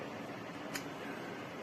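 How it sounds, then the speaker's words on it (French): Midea PTC 2000W ceramic fan heater running indoors, giving a steady, even broadband whoosh of fan air with one faint tick partway through, heard alone and close. "le ventilateur tourne toujours aussi vite."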